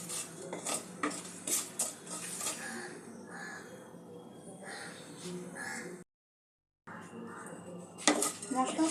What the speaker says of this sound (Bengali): মশলা থেকে একটু সুগন্ধ আসা পর্যন্ত এবং হালকা রংটা বদলানো পর্যন্ত মশলাটা আমি ভেজে নেব।